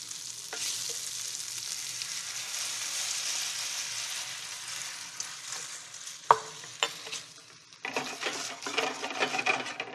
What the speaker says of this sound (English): I'm going to add chicken stock to it, which will give it some moisture and allow it to simmer until it looks almost like a sauce bolognese